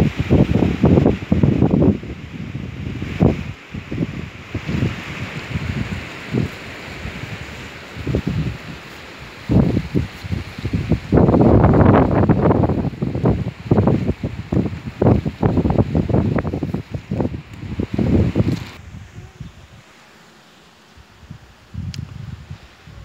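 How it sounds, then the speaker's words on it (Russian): Strong gusty wind buffets the microphone in loud, uneven bursts that come and go, easing briefly near the end. "Сегодня нам ветер не даст снять"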